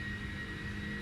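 PMDG 747-400 jet engines in the Prepar3D flight simulator, a steady close whirring roar with a sustained high tone, brief and unbroken with no talk.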